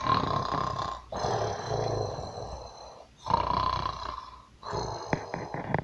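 A voice mimics a giant's snoring: three long, rasping, growly snores separated by short pauses, loud and close.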